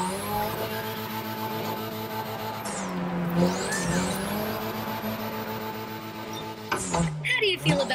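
A modded Mazda RX-7 rotary engine in The Crew Motorfest drones and revs steadily with a sustained tonal whine, tires briefly squealing near the end, while a voice talks over it throughout.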